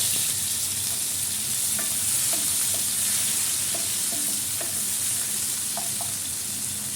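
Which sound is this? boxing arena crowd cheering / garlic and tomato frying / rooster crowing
garlic and tomato frying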